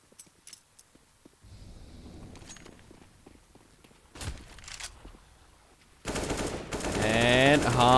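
Counter-Strike match with a Desert Eagle pistol shot and rifle gunshots: sparse sharp cracks and footsteps early on, then a dense loud burst of rapid fire toward the end.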